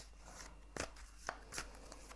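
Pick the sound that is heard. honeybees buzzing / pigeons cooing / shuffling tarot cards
shuffling tarot cards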